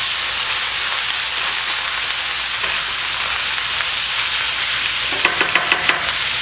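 Five pounds of 85% lean ground beef fries in a hot pan with a loud, dense, continuous sizzle close up, and a few light stirring scrapes near the end.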